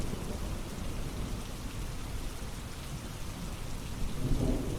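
Steady rain falls in a continuous dense hiss, with low thunder rumbling underneath and swelling louder near the end; no voices.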